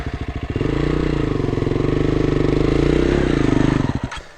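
A KTM 350 EXC-F dirt bike engine on an off-road trail holds a loud, close, throbbing rev that rises and settles for several seconds before cutting back sharply near the end.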